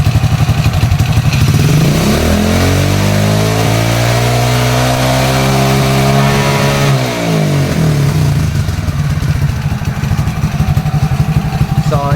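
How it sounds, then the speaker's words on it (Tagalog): A motorcycle engine idles, then is revved hard up to full revs, holding a loud rising and falling whine for several seconds before settling back to a steady idle; the bike's battery is on a fast-charge setup. "Start natin yung motor."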